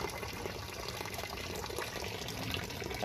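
Water runs steadily while a frog pond is rinsed clean, a continuous gushing, splashing flow close by with no pauses.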